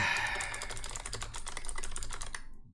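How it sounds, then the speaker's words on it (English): Rapid, close keystrokes on a computer keyboard during an Alien RPG tabletop session, a steady burst of clicking that runs for a couple of seconds and then abruptly stops. "I'm not gonna keep typing"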